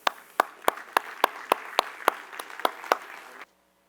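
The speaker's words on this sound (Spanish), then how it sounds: "Entonces un gran aplauso a la doctora Paola Emilia Cuartas y al ingeniero Fernando." Audience applause for two presenters at a talk on a bioproduct for rubber plantations. It comes as a sparse run of about a dozen sharp claps in a steady rhythm, close and fairly loud, then stops abruptly.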